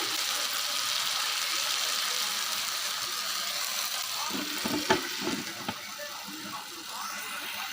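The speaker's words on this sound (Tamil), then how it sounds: "இப்போ பாருங்கள் ஃபுல்லாக எண்ணெயிலே ட்ரை ஆகுது" Dal for a North Indian dish fries in oil with a constant soft hiss and sizzle, joined midway by a few dull knocks and clatters from utensils against the pan.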